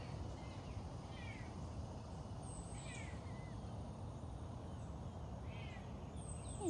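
Cats at a big cat rescue give faint, distant meow-like calls, three brief chirping cries over a steady outdoor hiss with no talking.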